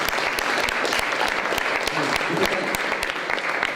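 Audience at a school competition applauding steadily, a dense wash of clapping hands that holds at an even level throughout, with a few faint voices mixed in.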